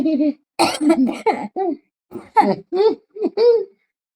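A person with a lingering cough coughs close by in a series of short, harsh bursts with brief pauses between them, mixed with a little laughter.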